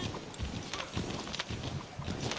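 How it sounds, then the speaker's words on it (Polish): A horse gallops through deep snow in Assassin's Creed 3 Remastered, with a steady run of muffled hoofbeats, close and continuous, over a low game ambience. "Koniem przez głębokie śniegi, przez śnieżyce wszelakie."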